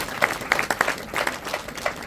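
Short burst of audience clapping at a gathering at a Shani temple, a scattered round of claps lasting about two seconds.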